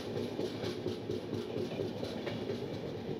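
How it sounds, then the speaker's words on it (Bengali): A train rolls steadily across the long Saraighat rail bridge over the Brahmaputra River, beneath the road deck, with a continuous rumble of wheels on the track. "তার নিচে রেল বেস দিয়ে আমাদের ট্রেনটি এগিয়ে চলবে"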